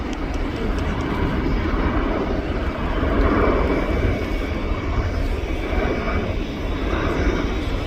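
A Luftwaffe Airbus A400M military turboprop transport flies a display, its engines producing a loud, sustained droning roar that swells slightly midway and stays continuous throughout.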